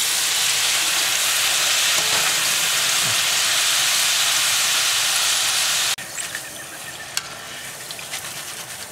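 Triangle-cut tortilla wrap pieces deep fry in hot oil for a Mexican chicken wrap, a loud steady sizzle and hiss that suddenly drops to a softer bubbling with small clinks.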